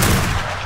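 Video game gunfire aimed at an ice dungeon boss, a brief loud burst of shooting that fades within a fraction of a second.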